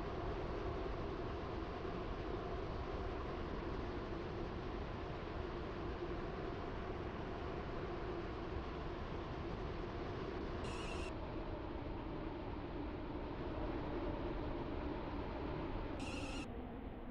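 Class 350 train running in the Roblox game SCR, a steady rumbling drone of wheels and motor with a broad hiss throughout, joined by two short high beeps near the end.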